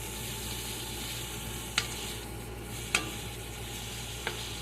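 Onions fry in a pan for chicken curry with a steady, soft sizzle, broken by a few sharp clicks of stirring.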